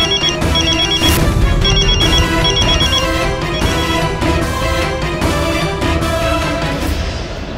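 A mobile phone ringtone plays loudly and steadily, a repeating melodic pattern that continues throughout in a domestic TV drama scene.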